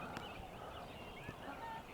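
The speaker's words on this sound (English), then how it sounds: "A few birds on the lake." Birds on a lake at sunrise in New Zealand's Mackenzie region give a few faint, distant honking, fowl-like calls over a quiet outdoor hush.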